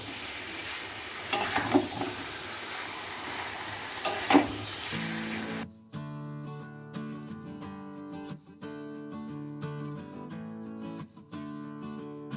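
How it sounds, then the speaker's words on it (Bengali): Mutton curry sizzles and is stirred in a pan with a tomato and some water added, a broadband frying hiss with scraping stir bursts for about five seconds before background music takes over. "এটাকে এবার আরেকটু জল দিয়ে দিয়ে ভালো করে আবার 15-20 মিনিট কষবো এটা।"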